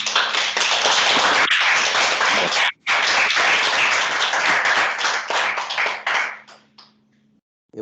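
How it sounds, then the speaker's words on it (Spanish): An audience gives loud, dense applause at the close of a mathematics lecture, broken by one brief gap, then thinning into scattered claps that fade to a low hum. "Y lo despedimos con un fuerte aplauso"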